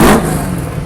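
A 1966 restored Camaro at a car show lets out a short, loud engine rev that swells at the start and settles into a steady rumble, with no voices over it.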